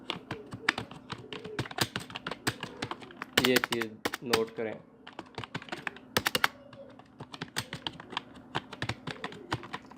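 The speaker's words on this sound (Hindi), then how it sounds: "लेफ़्ट राइट एरो प्रेस करते रहें तो ये सिलेक्ट होता जाएगा" Left and right arrow keys on a computer keyboard are pressed in rapid irregular clicks, close and fairly faint, while someone speaks briefly over them partway through.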